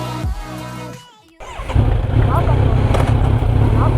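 A motorcycle engine cuts off briefly, then roars back loud and close, holding a rough steady rev while a rider talks over it.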